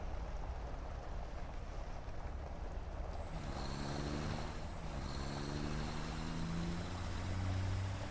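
A truck drives steadily in the factory-building game Satisfactory, its engine a constant loud rumble with rising and falling whining tones layered over it and no talking.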